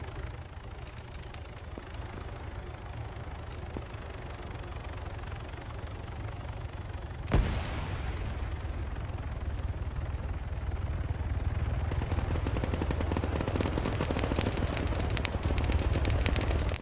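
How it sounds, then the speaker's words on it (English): A Zofia 7.62 machine gun with a 150-round magazine fires in a video game: a sustained, dense stream of rapid shots under a continuous roar, starting after a sharp crack partway through and growing louder toward the end. "So just shot the crap out of him with the Zofia."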